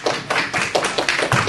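Applause from a debate audience, a short burst of many hands clapping at close range in quick, uneven rhythm with no voices over it.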